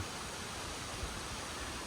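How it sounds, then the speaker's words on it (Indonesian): A small waterfall beside a road gives a steady, broadband rush of falling water, constant and fairly close with no other sounds standing out. "di air terjun mini yang ada di Jalan Baru Morelan Panjang"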